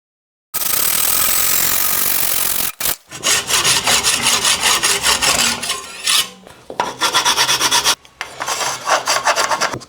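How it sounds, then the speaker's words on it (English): A carbon bicycle fork steerer being sawn and then filed in a workshop: loud, close, rhythmic rasping strokes in bursts with brief pauses between them, no talking. "now we can pull this fork back out and get it cut"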